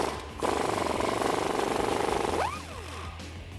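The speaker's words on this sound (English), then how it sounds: "I'm gonna use an 18mm swivel socket and an 18mm wrench to remove that lower bolt." Ratcheting and clanking from an 18mm swivel socket and wrench working loose the lower sway bar end link bolt on a Jeep Wrangler JK, a steady rapid mechanical chatter close up that eases off near the end, with no one talking.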